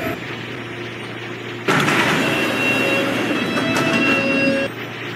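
An E subway train at Fairview Avenue station gives a steady rumbling roar that jumps louder partway through, with faint tonal whines and squeals over the noise before it drops back down, heard alone without speech.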